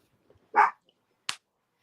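A dog lets out a single short, close bark, followed moments later by a sharp brief click or snap, in an otherwise quiet indoor space.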